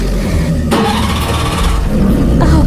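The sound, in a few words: engine being started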